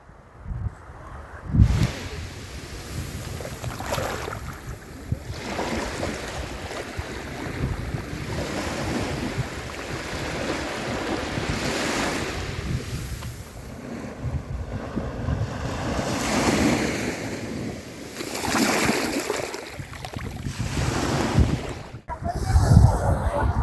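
Sea waves rolling in at Lalganj beach in Bakkhali, a steady loud wash of surf with swells rising and falling, heavy wind buffeting the microphone, and no voices.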